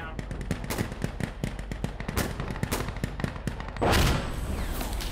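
Artillery rounds land in Insurgency: Sandstorm amid rapid crackling bursts of gunfire, with a heavier, louder blast near the end, and voices talking underneath.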